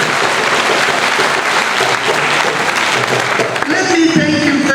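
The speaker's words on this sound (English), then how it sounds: "I think it deserves another round of applause." An audience at a university inaugural lecture in Uyo gives a loud, sustained round of applause, dense clapping filling the hall, with voices rising near the end as it tapers.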